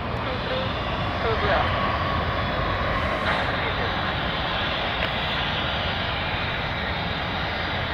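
Bombardier CS300 jet airliner engines make a steady, loud broadband roar that holds at the same level throughout, with faint talk underneath.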